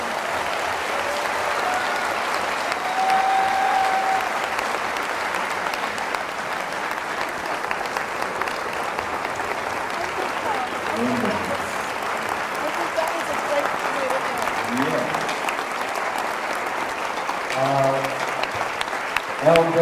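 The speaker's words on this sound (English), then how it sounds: "would you please give them a wonderful round of applause?" A long, steady round of applause from a large audience, even and continuous throughout, with scattered voices surfacing faintly beneath the clapping toward the latter half.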